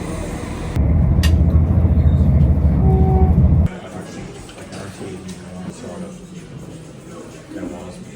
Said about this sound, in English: Train station in Galway.